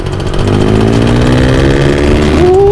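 A Yamaha VF3i motorcycle with a modified exhaust idles with a steady buzzing drone, then revs up sharply near the end, loud and close, with no talking.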